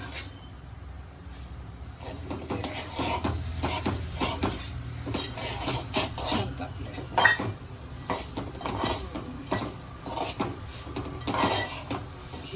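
Semolina goes into hot ghee in a pan for sweet suji halwa (rava sheera) and is stirred, giving repeated close scraping and clinking of a spoon against the pan with a faint sizzle, steady throughout.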